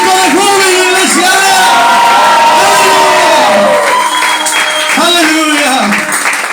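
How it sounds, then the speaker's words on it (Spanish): A church congregation shouts and cheers for joy, a loud sustained roar of voices with whoops and ringing cries over a leader's raised voice. "¡Un grito de júbilo, iglesia!"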